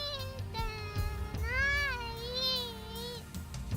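A character in the Steins;Gate visual novel game lets out a drawn-out, cat-like meow with wavering pitch, moderately loud over faint background sound, with no one talking over it.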